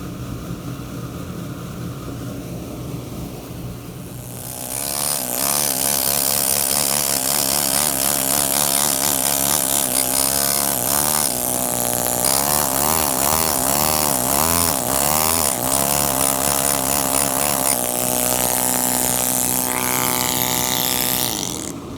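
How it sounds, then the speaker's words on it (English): Power saw grinding through marble for a stone carving reproduction of a cross, a loud sustained harmonic whine that starts after a quieter lead-in and runs continuously with wavering pitch, no talking. "The saw blade I've got, I don't like it on the stone, and I may get a different saw blade."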